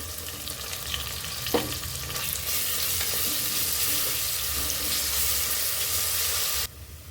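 Onions and ground spice paste fry for mutton biryani, a steady broadband sizzle that swells louder after a spatula scrape, with occasional stirring clatter, then cuts off abruptly near the end.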